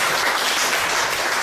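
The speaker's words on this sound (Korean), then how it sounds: "모두가 힘찬 박수로서 지지해 주셨으면 감사하겠습니다" Audience applause at a union forum held at the National Assembly, a loud, dense, continuous clapping that fills the whole moment.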